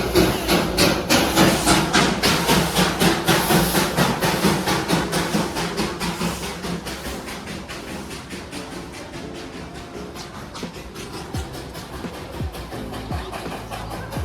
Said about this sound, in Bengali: এই যে চলে গেল টয় ট্রেন।